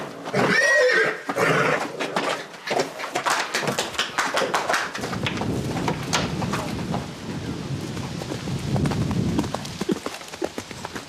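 A horse with good balance at the gallop whinnies loudly near the start, then its hoofbeats pound in a rapid, steady galloping rhythm at close range with no talk.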